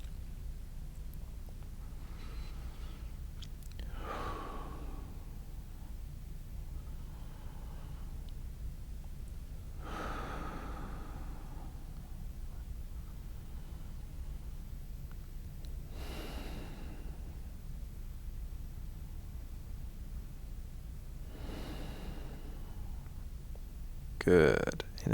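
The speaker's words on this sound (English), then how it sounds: "we're going to do another few breaths in this position here" Slow, deep breaths during a stretching exercise, about five soft airy inhales and exhales spaced several seconds apart over a steady low background, close and quiet, ending with a brief rustle.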